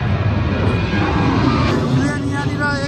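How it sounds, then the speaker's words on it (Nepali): An airplane roars low overhead at Ronald Reagan Washington National Airport, a loud, steady broadband engine rush filling the whole stretch, with a voice talking over it. "प्लेन यहाँनिर एकदम छिनछिनमा उड्छ लाइक प्रत्येक मिनट मिनटमा यहाँ प्लेन उड्छ"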